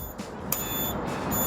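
An eFoldi Explorer mobility scooter in reverse gives off high electronic warning beeps, two pulses spaced about half a second apart over low motor hum.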